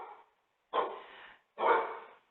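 A dog at home barks close and loud: three sharp barks with short silences between them.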